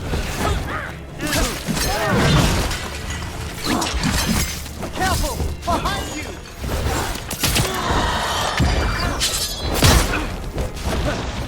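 Chains being broken in Dragon Age: The Veilguard amid combat, with repeated metallic clanks, ratcheting mechanisms and shattering crashes, loud and busy, with faint voices mixed in.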